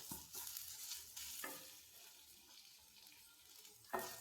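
Grated coconut frying in ghee in a pan is stirred, a steady close sizzle running under occasional scraping strokes of the spoon, with no one speaking.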